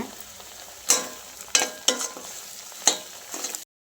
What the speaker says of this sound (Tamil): பச்சை வாசம் போகிற அளவுக்கு வதக்கலாங்க